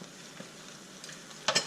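Small diagonal-cut asparagus pieces are stirred into risotto in a pan, giving a soft low sizzle with a few quiet scrapes and a short louder stir near the end.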